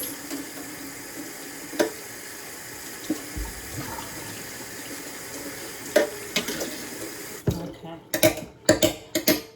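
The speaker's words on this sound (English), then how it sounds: "I'm going to wash my hands again." Tap water runs steadily over hands at a kitchen sink, a soft continuous splash close by with brief louder splashes and knocks toward the end.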